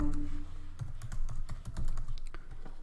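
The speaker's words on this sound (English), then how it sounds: "So let me type in my email" Fingers tap out an email on a computer keyboard, making a quick, close run of light clicking keystrokes over a faint background hum.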